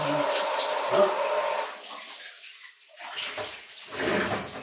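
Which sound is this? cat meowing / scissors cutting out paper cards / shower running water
shower running water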